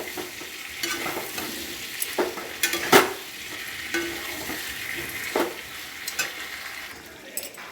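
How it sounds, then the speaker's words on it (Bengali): Potatoes are stirred into a spice mixture frying in a pan, with repeated scraping strokes of the spatula over a continuous close sizzle. "দিয়ে ভালো করে এর সাথে মশলাটার সাথে মিশিয়ে নেব।"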